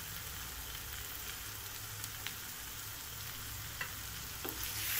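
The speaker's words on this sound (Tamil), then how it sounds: "லைட்டாக ஒரு கிளறி கிளறி விட்டுக்கங்க." Mutton chukka sizzles steadily in a pan while a spoon gives a few light stirring scrapes and taps, a constant close crackle with no speech.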